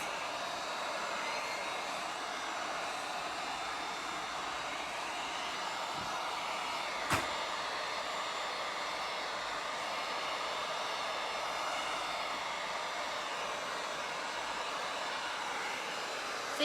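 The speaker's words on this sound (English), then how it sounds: "I'm kind of moving it a little with the heat gun" A heat gun blows over resin for geode coasters, giving a steady, even rushing hiss of hot air that stays close and constant throughout, with one brief sharp tap midway.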